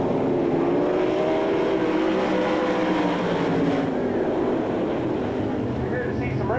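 360 sprint cars race at the Knoxville Nationals, a steady loud engine roar sustained throughout with shifting pitch as cars pass, a commentator talking over it.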